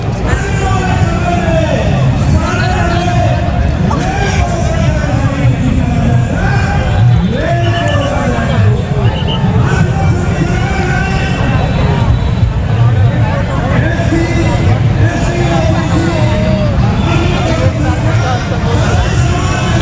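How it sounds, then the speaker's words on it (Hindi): Large crowd gathered at a Bharat Bandh rally in Raigarh, Chhattisgarh, a steady hubbub of many voices with someone speaking loudly over it throughout. "काफ़ी भीड़ यहाँ पर जो है आके इकट्ठी हो गई है"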